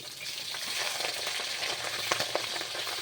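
Pabda fish sizzle in hot oil in a wok just after being flipped, a dense, steady crackle with a few sharp pops near the end, heard up close with no talk.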